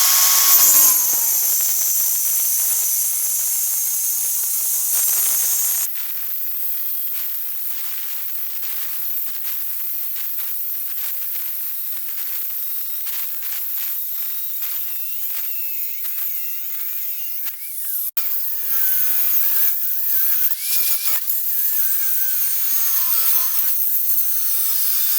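Cutting through old steel tie rod ends with a power tool, a continuous harsh grinding, rasping roar that stays loud and close, shifting in pitch and texture as the cut progresses.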